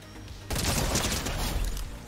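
Sustained rapid stream of charge SMG fire in a video game, a dense loud rattle kicking in abruptly and continuing without pause.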